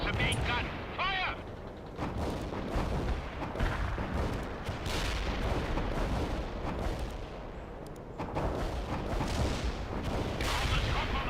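Heavy tank cannon fire in the World in Conflict strategy game, repeated booming blasts amid continuous battlefield rumble and clatter, with radio-style unit voices calling out over the combat.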